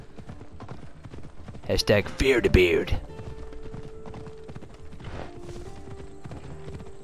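Horse hooves clip-clop steadily in the video game Assassin's Creed Odyssey, with someone talking over them and a brief burst of louder activity midway.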